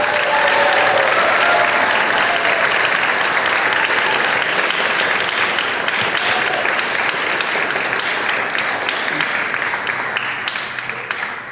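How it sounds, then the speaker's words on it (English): Audience at a high school band and jazz concert clapping in a dense, sustained round of applause that stays loud and even before thinning slightly at the end. "How about a round of applause for all the students in the band?"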